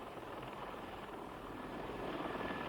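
Steady rotor and engine roar of a Piasecki Pathfinder compound helicopter in flight, fitted with small wings and a ducted rear propeller, a constant faint broadband drone with no breaks.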